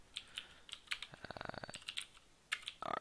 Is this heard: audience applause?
no